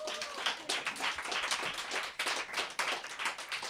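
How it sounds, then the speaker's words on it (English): An audience at a poetry reading event applauds in a steady, dense patter of many hands clapping, close and continuous for a few seconds. "you're applauding yourself now, Tyrone."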